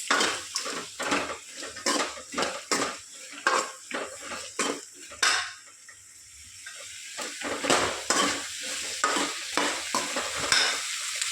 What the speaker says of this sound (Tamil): வெங்காயத்தை போட்டு கொஞ்சம் நல்லா வதக்கலாம் ஃப்ரெண்ட்ஸ்